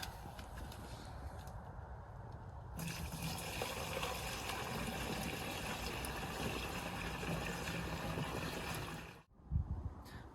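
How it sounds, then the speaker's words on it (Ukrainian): Mixed spray solution, prepared for treating blueberry seedlings, is poured into water in a sprayer tank, giving a steady, close, continuous liquid rush and splash that stops briefly near the end, with no talk. "Добавив я його вже в водичку і заливаємо зараз."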